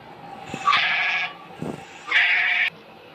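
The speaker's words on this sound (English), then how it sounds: "Goat means बकरी." A goat bleats twice, two wavering nasal cries separated by a short pause, with light background noise between them.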